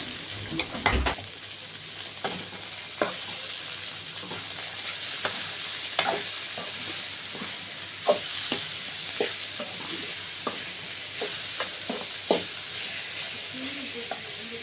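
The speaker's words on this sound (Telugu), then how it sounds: "ఉడకపెట్టి వంచుకునేసిన గోరుచిక్కుడుకాయలు కూడా వేసి కాసేపు వేయించాలి ఆయిల్లోనే" Boiled, cut cluster beans fry in oil in a pan with a steady bright sizzle, broken by repeated sharp scrapes and clicks from stirring about once a second.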